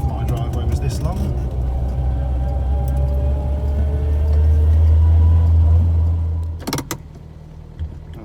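A 42-year-old Austin Allegro drives slowly up the long road to a house, its engine droning steadily and swelling a little before cutting out near the end, with a few knocks and clicks after.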